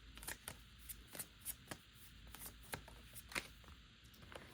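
A deck of tarot cards being shuffled close by, with a quick run of crisp riffling and flicking bursts and no talk.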